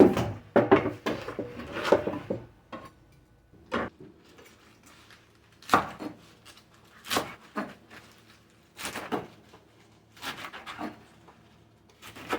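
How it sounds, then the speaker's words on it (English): Garden greens are chopped on a board with a knife, giving a handful of sharp, close wooden thuds at irregular intervals with quiet gaps between them. "So I'm going to chop these up."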